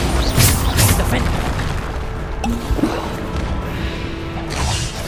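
Heavy booms from the Bombarda blasting spell in Hogwarts Legacy go off near the start and again near the end, with rumbling and clattering between them and a voice speaking alongside.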